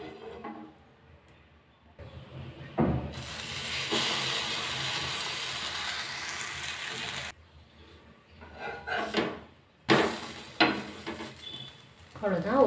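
Bread soaked for Bombay toast fries in ghee in a pan, giving a loud sizzle that swells when the slice hits the fat, along with some utensil clatter and short stirring or scraping noises.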